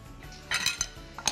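Two plates are taken out and set down in a home kitchen while serving a lasagne pasticcio: a few close ceramic clinks and knocks, with cutlery chinks, spaced unevenly over a second.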